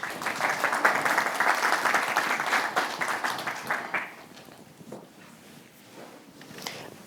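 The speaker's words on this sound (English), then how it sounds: "A warm applause." Audience applause welcoming panel speakers at a sustainable food policy event, full clapping for about four seconds that then drops off to scattered claps and room noise.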